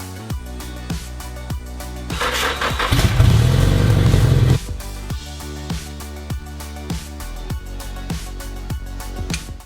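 A Nissan S13 with an over-boosting issue and a new radiator starts up, its engine revving loudly before it settles into a steady idle and pulls away, with a regular ticking pulse running through the engine note.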